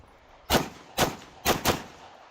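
Pistol shots at paper targets on a multigun competition stage at a gun club, four sharp, loud reports with the last two close together, standing alone against a quiet background.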